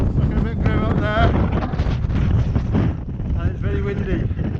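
Strong wind roars across a rocky path near the summit of Moel Siabod, buffeting the microphone with a constant, heavy low rumble while someone talks over it throughout.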